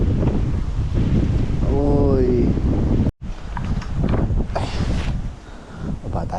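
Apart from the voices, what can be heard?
wind blowing while fishing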